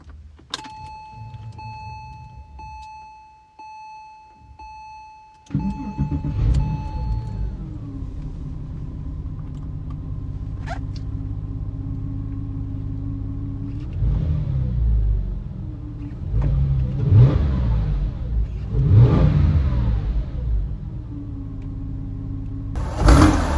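A Porsche 911 Carrera 4S Tiptronic engine cranks and starts with a sudden roar, then idles with a deep rumble, revving up and down a few times before settling.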